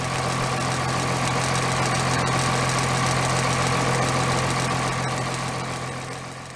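Cummins 5.9 diesel engine running steadily after a serpentine belt replacement, a loud continuous idle with a deep hum and constant mechanical clatter, close up and without speech.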